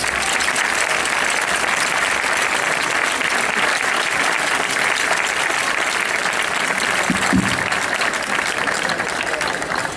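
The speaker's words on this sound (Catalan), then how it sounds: "a qui demanem molt fort aplaudiment" Audience at a folk dance group performance applauding the group's founders, loud, sustained clapping from a large crowd that stays thick and even throughout, with a brief low thump partway through.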